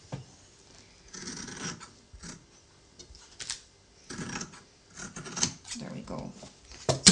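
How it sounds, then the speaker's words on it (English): Scissors snip through layered main fabric and lining just outside a sewing line, giving short rasping cuts in irregular bursts, close up, with brief pauses between and no talk. "So I'm just cutting just outside that sewing line."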